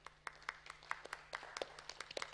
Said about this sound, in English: I think you should join me for a big applause to all speakers today.